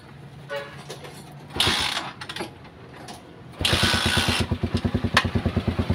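A motorcycle with a charging fault is cranked with mechanical clatter, then the engine catches and runs with a loud, close, rhythmic pulsing idle.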